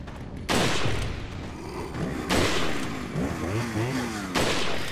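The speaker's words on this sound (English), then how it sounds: "let's just shoot him when he's down" Three loud gunshots spaced about two seconds apart ring out in Resident Evil 4, each a sharp burst with a trailing boom, while guttural enemy groans sound in between.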